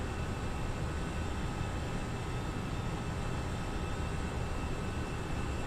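Airbus A319 airliner engines in a steady, dense roar while climbing after takeoff from Frankfurt in the Prepar3D flight simulator game, a constant broadband drone with no talk.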